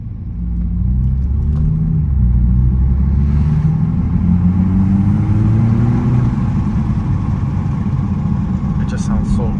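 Big single-turbo Toyota Supra engine rumbling and revving from inside the car, a loud low drone with rising and falling pulls, plus a brief faint hiss near the end and a voice talking.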